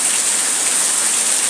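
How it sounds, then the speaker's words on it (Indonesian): Heavy rain pouring down steadily, a dense, unbroken hiss of falling water that stays loud and even throughout with no voices. "di tempat kami dilindungi atau dijatuhi hujan yang cukup deras dari tadi, sekitar setengah jam lalu"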